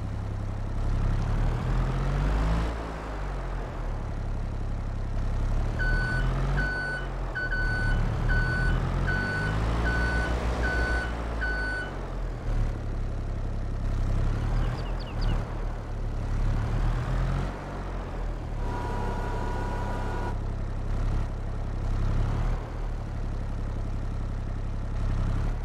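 Forklift in the Farming Simulator 22 video game, a continuous engine drone with a run of evenly spaced electronic reversing beeps midway and a shorter beeping tone later, no talk.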